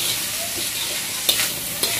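Fried Thai noodles with onions and lemongrass sizzle steadily in a black wok, with two sharp scrapes of stirring near the end and no voices.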